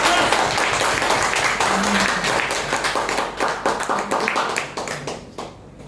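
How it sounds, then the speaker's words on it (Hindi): A seated audience claps to welcome a guest onstage, starting dense and full, then thinning into scattered individual claps that taper off near the end. "प्लीज ताली हो जाए।"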